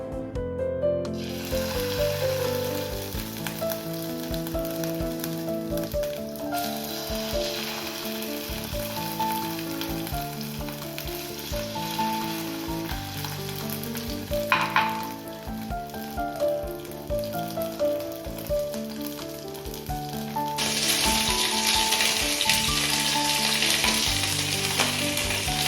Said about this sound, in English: So now I'm going to add the salmon fillets onto the mustard oil with skin